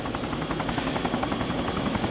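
Video game helicopter with a steady, dense rotor and engine drone, loud and continuous with slight pulsing throughout.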